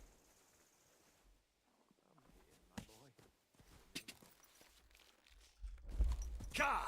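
Horse hooves clip-clop in the medieval game Kingdom Come Deliverance 2, a few irregular steps under intermittent talk, ending in louder bursts of sound.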